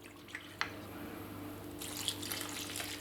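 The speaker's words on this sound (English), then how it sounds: "I'm going to add 2 cups of the malt vinegar," Malt vinegar, two cups of the dark kind, pours into a pot on a stove, giving a soft steady liquid trickle and splash with a brief clink near the start, close and fairly quiet.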